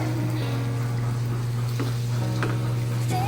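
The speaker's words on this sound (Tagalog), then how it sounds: "So, careful lang tayo ng ating paghahalo kasi malambot na siya" Eel adobo being stirred in a hot pan, steady sizzling with soft scrapes and clinks of the utensil against the pan, close and continuous over a low electrical hum.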